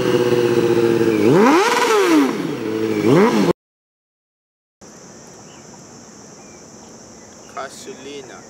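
A motorcycle engine revs up and down in a few loud, close sweeps. After a brief silence comes a quieter stretch with a high, steady insect-like whine.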